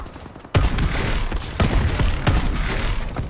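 A riot shotgun-style weapon fires in Call of Duty: Advanced Warfare on the Riot map, starting abruptly with a loud blast and followed by steady rapid shots and a few heavier booms, close and continuous.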